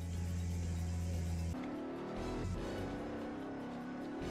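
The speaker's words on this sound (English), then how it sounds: "let's just get in the car and drift" Car engine in a video game droning loud and steady, then dropping in pitch midway as the car slides and drifts, with a rough rumble continuing to the end.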